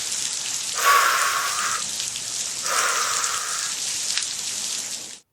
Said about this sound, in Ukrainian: Почалася велика злива.